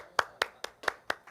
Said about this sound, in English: That's it? 3 claps?